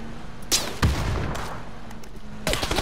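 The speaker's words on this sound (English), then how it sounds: "We're getting shot at from both sides." Video game firefight with gunshots coming from both sides, sharp broadband cracks at irregular intervals over a constant hum of battle noise, including a heavy close blast near the start and another burst at the end.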